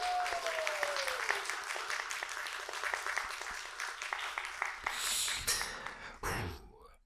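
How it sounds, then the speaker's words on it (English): Applause from an audience congratulating itself, scattered claps rising into a fuller burst, with a whistle-like tone early on and a loud breathy whoosh near the end before it fades. "I want to give a big round of applause to ourselves"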